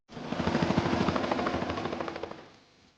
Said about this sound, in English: Max's wind-up plane came wobbling by over Ruby's head.